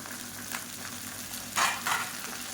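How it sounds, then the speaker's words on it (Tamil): Coriander and mint leaves sizzle and hiss steadily in a hot pan, with a couple of louder bursts as the leaves are stirred. "இது எல்லாமே நல்லா வதங்கட்டும்"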